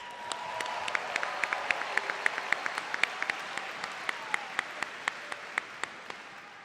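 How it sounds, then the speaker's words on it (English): An audience applauds the high school band at a graduation ceremony, steady scattered clapping at moderate distance, with a few sharper individual claps standing out and the applause slowly fading. "Let's give a big round of applause to our Bronco band in the back."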